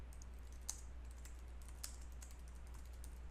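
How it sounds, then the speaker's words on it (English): A computer keyboard is typed on in a quiet room, a short burst of faint, irregular key clicks at close range with no voices. "I'll type that into the search bar"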